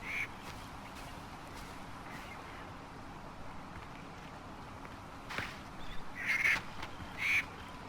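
Birds in the Far Cry 4 video game give a few sharp squawking, quacking calls near the end over a steady low ambient game background, moderately faint and without talk.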